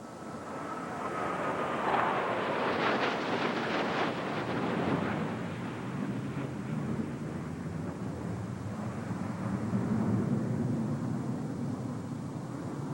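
A MiG-29 fighter jet flies past with a broad, rushing jet roar that swells and shifts in pitch, loud and sustained, alone without any talking.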